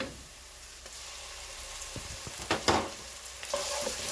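Ginger and garlic hit hot oil with browned onions, about half a cup of oil, for a spinach-fenugreek mutton curry, giving a steady close sizzle and crackle with occasional stirring scrapes and clinks.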